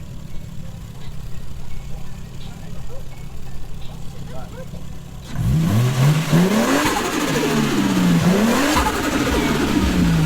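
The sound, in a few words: car engine revving with turbo whistling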